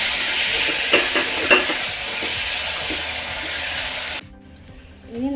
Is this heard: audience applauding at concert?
no